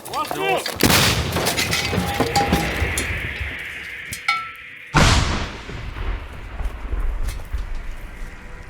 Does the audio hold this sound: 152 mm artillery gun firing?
yes